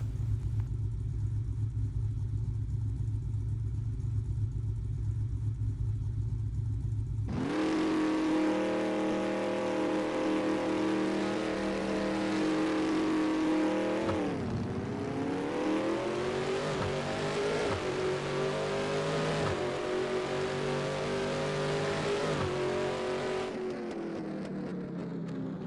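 A race car in the video game No Limit 2 makes a drag run: the engine note jumps in loudly after a quieter idle-like stretch, then revs hard and climbs through repeated gear shifts, staying loud and steady throughout with no talking.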